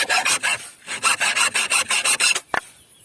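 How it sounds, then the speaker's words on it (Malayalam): Hand sawing through a piece of bamboo for a craft stand: quick, rasping back-and-forth strokes in two bursts, close and loud, ending with a sharp crack as the piece breaks free. "നമ്മൾ ഈ ഒരു മുള കട്ട് ചെയ്തെടുക്കണം കേട്ടോ"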